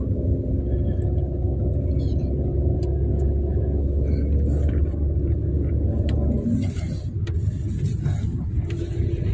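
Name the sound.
car being driven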